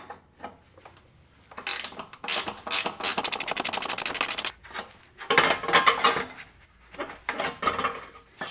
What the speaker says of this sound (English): I have to sneak a wrench behind that one.